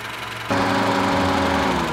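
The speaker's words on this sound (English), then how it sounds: "the fans finally kicked in for a moment. As you can see, they were spinning" Radiator cooling fans on a Honda Civic switch on abruptly during coolant bleeding, a steady whirring drone with engine hum starting partway through and running loud and constant to the end.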